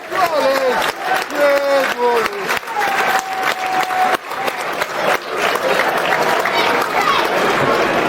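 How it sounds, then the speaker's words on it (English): Football crowd at a Millwall versus Peterborough United match applauding, dense sustained clapping filling the stadium, with voices calling over it throughout. "Good applause."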